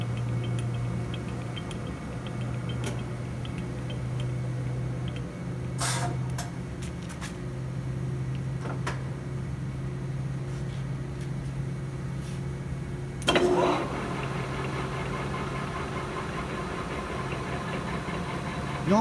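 A Dainichi DLG general-purpose lathe runs in low gear at 50 rpm with a steady mechanical hum and drone, broken by a few sharp metallic clicks and a brief clunk.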